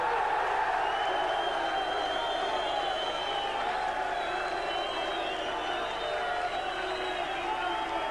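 At the 1984 Embassy World Darts Championship final, an audience applauds Eric Bristow back onto the stage with continuous clapping, cheering and whistles that hold steady from start to finish.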